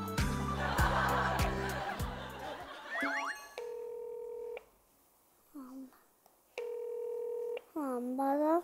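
A phone call on a Korean variety show: rapid keypad dialing tones at first, then the steady repeating ringback tone in long pulses while the call goes unanswered, with a few brief voice sounds between.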